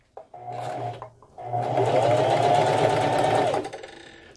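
A home sewing machine stitches quilt fabric in close, steady whirring runs: a short burst, a brief pause, then a longer continuous run before it stops.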